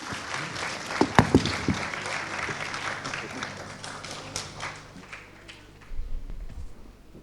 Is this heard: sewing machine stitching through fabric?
no